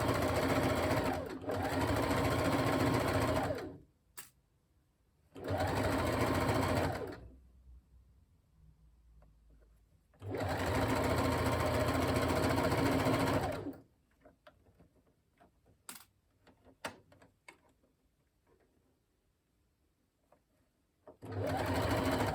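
A sewing machine stitches a fabric headband in three steady, close bursts of whirring, separated by quiet pauses filled with faint handling noises, and a fourth run begins at the very end.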